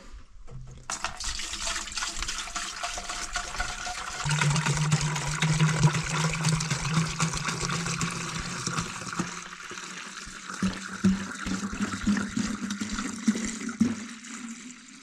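Water pouring steadily into a concrete patching mix for a parking spot repair, a continuous close splashing fill that swells and then tapers off over about fifteen seconds.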